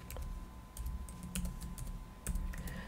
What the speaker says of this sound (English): I'll actually type the name up there